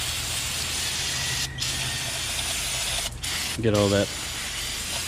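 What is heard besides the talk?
brake cleaner spray on a rotor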